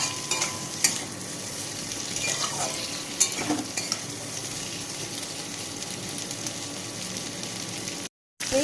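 Three green chillies frying in a pan, producing a steady, moderate sizzle with a few brief clicks and scrapes of stirring and no talking; the sound cuts out for a moment near the end.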